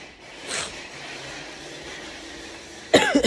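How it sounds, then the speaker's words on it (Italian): A sick person with a cold gives a few sharp, close coughs at the very end, after a quiet stretch with a faint rustle near the start. "L'unica cosa che ho è la tosse, il raffreddore"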